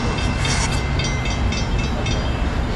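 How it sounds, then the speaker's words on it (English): A SEPTA train bound for the airport pulls into the station, a loud close rumble with wheel clatter and high squealing tones over a steady roar. "Here we got the train to the airport"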